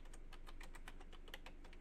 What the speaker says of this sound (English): I'm typing something else